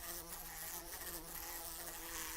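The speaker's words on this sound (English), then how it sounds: "Can you hear the blue bottle buzzing?" A bluebottle fly buzzes steadily and close up, a continuous droning hum with no gaps and a slight waver in pitch, heard alone without any talking.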